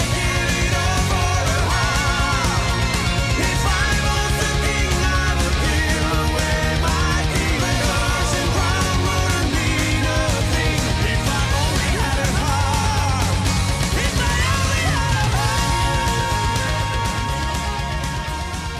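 A power metal song plays loud and dense throughout, with driving drums, heavy guitars and keyboards and no talking over it.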